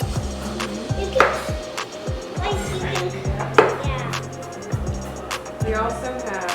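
A knife slices mushrooms for vegetarian gumbo, producing quick, close, repeated chopping taps against a cutting board in an uneven rhythm, with a faint tonal background running underneath.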